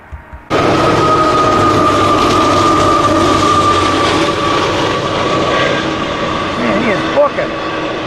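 A train rolls past through a New York blizzard, a loud, steady roar with rail rumble and a sustained tonal whine lasting several seconds, starting abruptly after a brief quieter moment.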